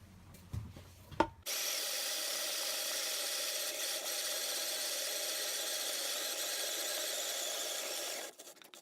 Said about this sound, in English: the cordless drill attached onto the spindle